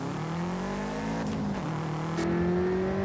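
A Subaru STI engine in the racing game Forza Horizon 5 revs steadily and climbs in pitch, a continuous loud drone with a brief shift partway through.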